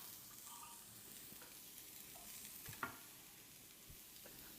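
Fennel sizzles in olive oil in a pan, a faint, steady frying hiss with light stirring scrapes and a small clack partway through.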